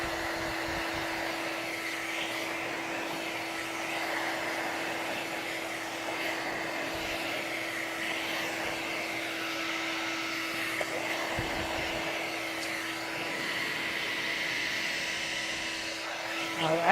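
A blow dryer runs at a steady, constant whoosh, drying tape-in hair extensions during a salon maintenance session, staying moderately loud and continuous the whole time, with no speech over it.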